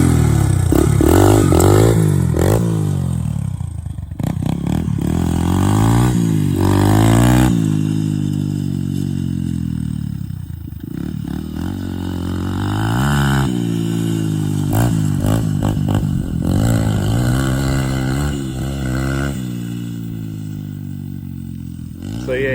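Dirt bike ripping around a berm on a private dirt track, engine revving loud and close throughout with rising and falling pitch and some clatter, while people talk over it.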